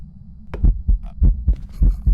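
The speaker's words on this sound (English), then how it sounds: "this is the heartbeat is so loud." Loud in-game heartbeat from the horror video game Phasmophobia: a close, booming double-thump pulse repeating steadily several times over a low hum, with no talk.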